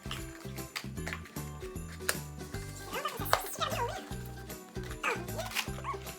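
A small dog jumps around indoors and yips in quick, excited bursts, with rapid scratchy movement and a speaking voice mixed in.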